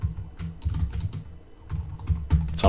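Steady typing on a computer keyboard while writing structured-text PLC code, a busy stream of clacking keystrokes in bursts with a brief pause midway, heard close over a low hum.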